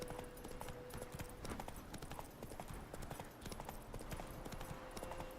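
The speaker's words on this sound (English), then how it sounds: "Whoa, whoa, whoa, whoa, whoa. Not so fast, Roach" A horse gallops in The Witcher 3 video game, its hooves beating a quick, regular clip-clop rhythm, quiet and continuous, over a faint steady game tone.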